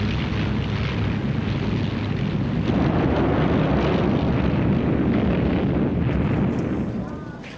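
Luftwaffe warplanes attacking Malta during the Second World War, a dense, continuous roar of aircraft engines mixed with rumbling blasts and gunfire, loud and sustained before easing off at the end.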